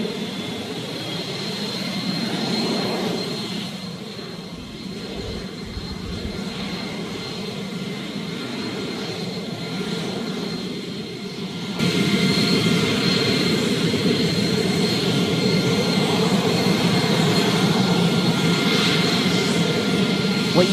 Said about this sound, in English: U.S. Air Force F-16 fighting Falcons flying wing to wing with Russian Tu-95 bombers and Su-35 fighters near the strategic Bering Strait.